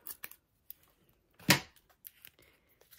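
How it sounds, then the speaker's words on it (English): Scissors snip through tape on a knitted cardigan project: one sharp, close cut stands out amid a few small clicks and rustles in a quiet room. "There's tape here, just cut that off."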